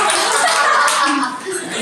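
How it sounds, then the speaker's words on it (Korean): Children at a church elementary-school Bible lesson clap for a classmate who answered correctly, a dense close patter of many small hands over about two seconds, with a little laughter and voices mixed in. "박수요. 박수 좀 주세요."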